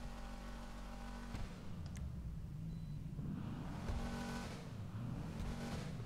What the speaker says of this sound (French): on va accélérer comme ça vous le verrez mieux